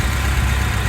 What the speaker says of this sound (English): About a 1-liter turbocharged Nissan Micra engine